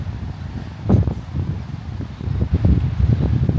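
Gusty wind buffets the microphone in low rumbling bursts in a rose garden park, rising and falling over a few seconds.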